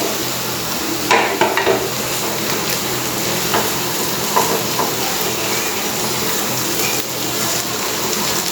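A raw banana cutlet mixture is stirred in a pan on the stove with a soft, steady sizzle, and a few louder scrapes cut through the constant frying hiss.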